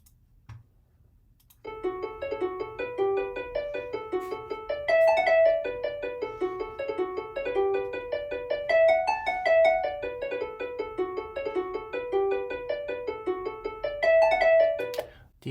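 Synthesized ABCJS tune playback with old-style grace note timing plays a clean, bell-like repeating melody in even rhythm after a short silence, moderately loud with no voices.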